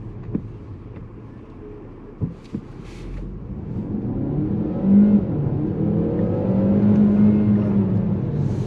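A 360 hp Peugeot 508 PSE accelerates hard from a standstill toward 80, its engine note rising steadily in pitch and building in loudness, heard from inside the car with a few light knocks early on.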